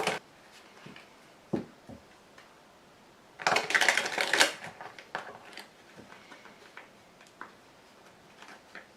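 Tarot cards are shuffled and laid out on a table in quiet, close bursts of soft riffling and light taps, one denser flurry in the middle, with no voices.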